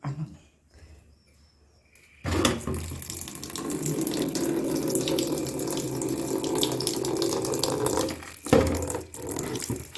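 Water runs steadily from a tap for several seconds after a quiet start, a close, continuous splashing stream with a brief break near the end.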